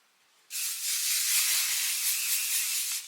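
A can of hairspray lets out one continuous hiss lasting about two and a half seconds, close and fairly loud, with no talking over it.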